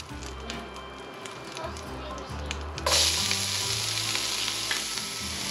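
Chopped shallot frying in a pan after browned rabbit, a steady soft sizzle with stirring scrapes, intensifying into a brighter hiss partway through, with faint low talk underneath.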